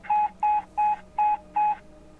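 A series of five evenly spaced electronic beep tones, each about a fifth of a second long, sounding clear and steady against a quiet background hum, with no talking.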